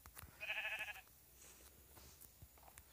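A sheep bleats once in Minecraft, a short wavering baa heard faintly over quiet background clicks.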